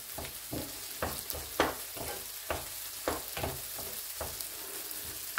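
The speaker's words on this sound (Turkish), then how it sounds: "Şimdi salçayı katacağım, kokusu çıksın diye." Tomato paste sizzles in a pan for menemen while a spoon scrapes and stirs it in a steady rhythm of about two strokes a second, close and fairly quiet with no talking.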